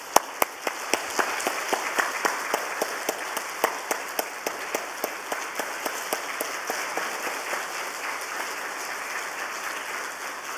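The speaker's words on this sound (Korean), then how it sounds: "나오실 때 우리 뜨거운 박수로 환영하겠습니다." A church congregation at a Wednesday evening dedication service claps steadily to welcome the preacher, crisp individual claps standing out in a dense, sustained round of applause that stays even throughout.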